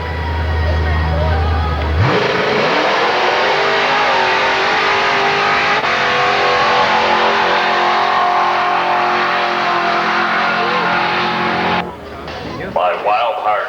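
A Ford drag race car at Milan Dragway, running a C4 transmission and 3,500-stall converter, roars loudly at full throttle for about ten seconds, a sustained close engine howl that cuts off abruptly, followed by brief clatter.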